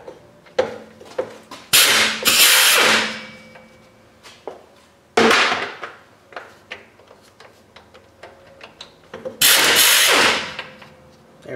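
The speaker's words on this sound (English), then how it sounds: "next we can remove these two bolts here, 12 millimeter 12 points" A ratchet wrench backs out 12 mm twelve-point transmission bolts in bursts of quick clicking, broken by louder metallic clanks and knocks, close up with no voices.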